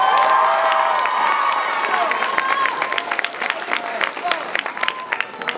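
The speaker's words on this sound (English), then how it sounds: "with a big round of applause for Noah Godrich" Applause and cheering from a high school event crowd greeting Noah Godrich after the national anthem, starting full and loud, then thinning into scattered claps with a few whoops and voices.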